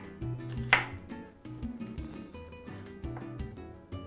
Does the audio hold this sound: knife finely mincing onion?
yes